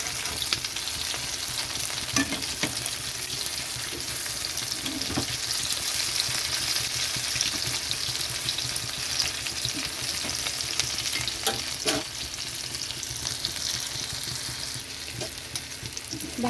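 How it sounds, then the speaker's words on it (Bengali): A capsicum omelette fries on its second side in hot oil, with a continuous crackling sizzle and occasional scraping stir sounds, steady and close throughout. "আর একটা সাইড ভাজা হবে।"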